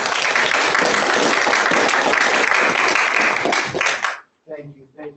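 An audience at a Notre Dame Law School lecture gives a round of applause welcoming a professor, loud sustained clapping that stops abruptly, followed by a brief spoken voice.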